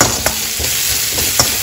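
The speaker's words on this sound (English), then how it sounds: "तो ये अच्छे से फ्राई होगा." Ginger paste, onion and chili sizzle and fry in a pan, with a steady loud crackle and a few sharp stirring clicks, no talking.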